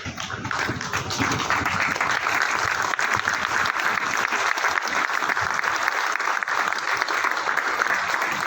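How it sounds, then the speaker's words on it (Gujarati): A standing crowd at a speaking event gives Dr. Chittaranjan a loud, continuous ovation of dense clapping, sustained evenly from start to finish. "ડોક્ટર ચિત્તરંજન સરને તાળીઓના ગડગડાટથી વધાવીએ"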